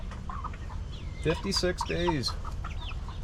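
Eight-week-old meat chickens cluck and chatter nearby on a hot day, soft scattered clucks with a brief burst of louder calls midway, while a person speaks briefly over them.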